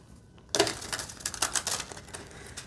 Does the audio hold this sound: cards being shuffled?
yes